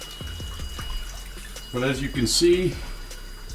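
Water begins running through the return plumbing of a saltwater aquarium, a soft splashing flow that rises partway through while someone talks close by.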